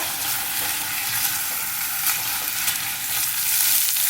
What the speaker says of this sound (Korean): 골고루 섞어가며 볶아줄 거예요.